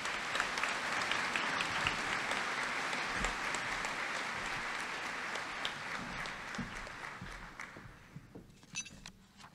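Applause for faculty and administrators at a college commencement ceremony, with a large crowd clapping steadily for several seconds before it thins out and fades near the end.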